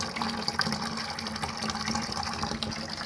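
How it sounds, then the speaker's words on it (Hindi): Tap water runs steadily into a container being filled for pigeons, a continuous close gushing splash with no talking. "चलो अब ये पानी भर जाएगा"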